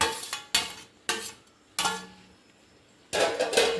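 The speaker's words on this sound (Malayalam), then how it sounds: "ഇനി ഇതിലേക്ക് നമ്മൾ കൈ കൊണ്ട് നല്ലവണ്ണം മിക്സ് ചെയ്യണം." Chicken pieces mixed by hand with fried onions in a bowl, heard as a few separate soft squelching, scraping bursts with quiet pauses between, close and without talk.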